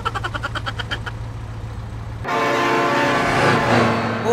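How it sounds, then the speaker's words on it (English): A train horn blares in the BeamNG video game, pulsing in a rapid series of loud blasts before a rushing rail rumble and a sustained horn swell take over, with no talking. "Oh my god, train!"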